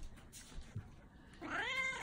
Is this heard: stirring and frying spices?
no